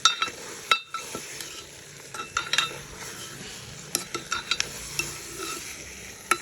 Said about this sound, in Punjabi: ਸਾਰਾ ਮਟਨ ਪਾਉਣ ਤੋਂ ਬਾਅਦ ਆਪਾਂ ਚੰਗੀ ਤਰ੍ਹਾਂ ਕੜਛੀ ਫੇਰ ਦੇਣੀ ਹੈ